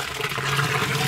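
Water poured from a container into a fence post hole while setting a post, a continuous splashing, gurgling stream that runs steadily for the whole moment, close and fairly loud.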